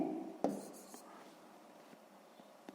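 A pen scratches across paper while working a sixth-grade math exercise, with short strokes and taps after a brief burst of low murmuring at the start, all fairly faint.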